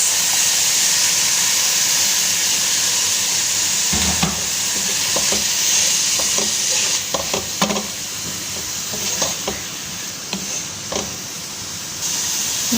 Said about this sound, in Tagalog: lalagyan natin ang prawn. Then, ang ating spices.